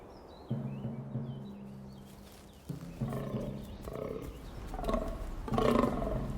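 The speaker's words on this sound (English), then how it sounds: "It's the rutting season for fallow deer." Fallow deer stags groaning during the autumn rut in misty Slovak mountain woodland, several deep, rough calls rising at intervals over a steady low hum, fairly close and loud, with no talk.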